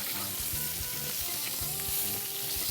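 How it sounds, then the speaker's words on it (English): Steaks fry in a pan while being basted with butter, making a close, continuous sizzle with spattering crackles and faint spoon taps, and no voices. "I'm just going to start taking that butter and basting those steaks"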